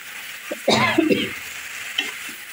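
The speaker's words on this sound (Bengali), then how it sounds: "শাকটা দিয়ে এবার নাড়াচাড়া করে মিশিয়ে নেই।" Greens stirred into fish frying in a pan, with a short scraping stir and a hot sizzle in the middle and a fainter clink near the end, heard close up.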